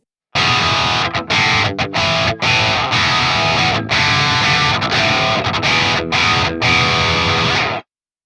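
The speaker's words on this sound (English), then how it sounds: "We could bring this back and get more kind of rock crunch tones." Electric guitar played through a Fortin Nameless Suite X amp sim set for rock crunch distortion, loud and close, in bursts of chugged chords with short choppy gaps and a clean stop near the end.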